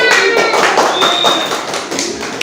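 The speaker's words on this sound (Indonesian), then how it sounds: "tepuk tangan buat kelompok 2" A group in a classroom claps together, a dense, steady patter of many hands held at an even level for a couple of seconds.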